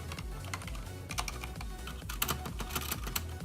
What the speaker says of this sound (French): on se retrouve sur un clavier mécanique plutôt silencieux